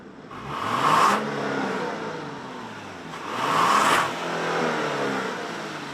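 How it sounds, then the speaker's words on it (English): A Genesis GV70 3.5T with a 375-horsepower V6 on premium fuel and an 8-speed transmission, heard accelerating in two rising surges, each swelling to a whooshing peak before easing back, fairly close by. "V6 we're driving pumps out 375 horses and 391 pound-feet using specified premium fuel."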